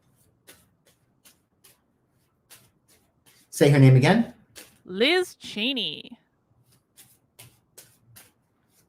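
Tarot cards are shuffled with soft, scattered riffling ticks spread across the clip, quiet and close, while people talk briefly in the middle.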